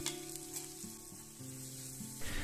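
Grated coconut frying in a pan gives a steady close sizzle throughout, with soft stirring scrapes mixed in and a louder burst near the end; no one speaks.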